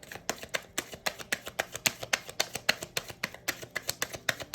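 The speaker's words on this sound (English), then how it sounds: "Thanks for bearing with my shuffling." Rapid, rhythmic riffling of a deck of tarot cards, crisp repeated snaps in a steady pattern, close and fairly quiet.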